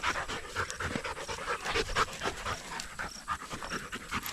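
Bingo, a native dog, pants rapidly and rhythmically at close range, a steady run of quick breathy huffs with no talking.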